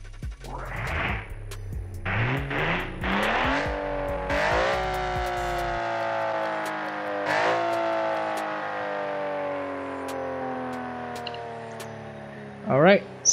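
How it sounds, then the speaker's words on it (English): A boxer six car engine in the BeamNG.Drive driving game, ahead of a drag race, revs up in a series of rising, climbing pitches, loud and close, then settles into a long steady drone before a brief final flare. "let's hear the noise of the engine"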